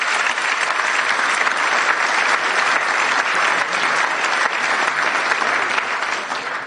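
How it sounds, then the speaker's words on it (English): Hall audience at an innovation night applauding continuously, a dense, even roar of clapping that holds steady throughout and tapers slightly at the end. "Sven, that is your applause."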